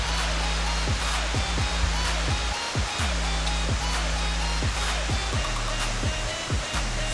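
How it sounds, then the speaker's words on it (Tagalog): Sulkok Falls in Vintar, Ilocos Norte, roars as a steady broadband wash of falling water, loud and unbroken, with intermittent low thumps and knocks cutting through. "Sulkok Falls."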